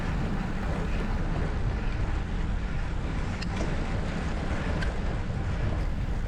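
Strong wind roars and buffets a microphone on the move during a criterium cycling road race in the French Alps, a dense continuous rush with no voices.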